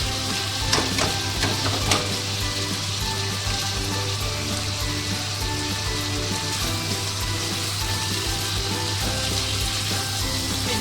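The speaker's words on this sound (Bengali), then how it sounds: "এইভাবে নেড়ে চেড়ে কষিয়ে নিতে হবে" Loitta fish (Bombay duck) stir-fries in a pan with a loud, steady, dense sizzle close up, with a few clinks of stirring near the start and no talking.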